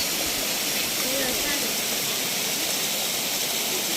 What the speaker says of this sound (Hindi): ये व्यूअर्स आपने आबशार देखी